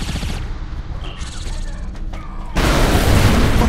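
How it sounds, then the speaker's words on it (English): Bombs blow up in the Saints Row 4 video game with a loud, sustained rumbling blast, and a second, heavier explosion surges in near the end. "Oh, this looks important. Let's blow it up."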